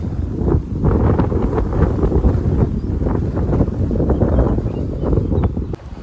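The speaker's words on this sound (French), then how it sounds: "Honnêtement il y a pas mal de vent." Strong, gusty wind buffets the microphone in a continuous roar that swells and dips, heard alone outdoors at a tennis club in the early morning.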